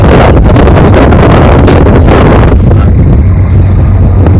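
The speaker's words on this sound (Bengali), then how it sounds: "বাতাসটা খুব সুন্দর লাগছে" Strong wind buffets the microphone on the upper deck of a moving passenger launch on a river, a loud, continuous roar with gusting rumble that eases slightly toward the end.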